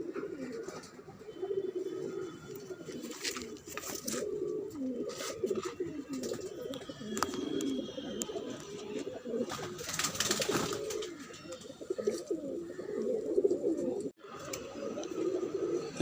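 Flying pigeons coo softly and continuously, layered low murmuring calls close by with scattered faint chirps and rustles, and no talking.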